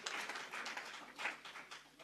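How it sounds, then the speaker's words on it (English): Summit audience gives Botswana a round of applause: a dense, steady wash of many hands clapping at moderate distance, fairly soft and even, swelling slightly midway. "Let's give Botswana another round of applause."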